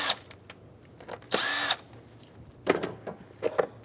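A power tool removing 10mm nuts from a plastic engine cover on a 2007-2011 Toyota Camry, one short whirring burst followed by scattered clicks and clunks of handling, fairly quiet.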